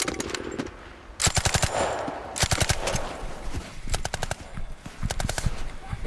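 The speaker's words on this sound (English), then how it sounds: "Keep going, rapid fire!" Rapid rifle fire during a military training exercise, several sharp bursts of repeated shots in quick succession separated by short pauses, loud and close, with background rustle between volleys.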